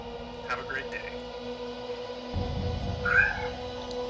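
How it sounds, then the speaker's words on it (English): A kitten meows briefly at a moderate level over a steady room hum, with a low rumbling noise partway through. "Come here, kitty. Kitty, kitty."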